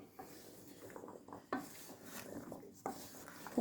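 Ingredients being stirred in a bowl to coat them in flour for chickpea and chorizo pataniscas, with close scraping and clinking of a utensil against the dish and a few sharper knocks, faint and intermittent.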